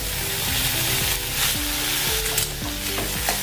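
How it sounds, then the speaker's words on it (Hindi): Tomato added to spiced oil frying for a lotus stem curry, giving a loud, close, continuous sizzle with bursts of crackling and the scrape of stirring, no talking. "अभी इसमें हम टमाटर डाल देंगे।"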